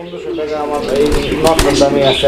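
Pigeons at a pigeon farm give low cooing with some wing flapping nearby, a busy, fairly loud mix, while someone talks over them.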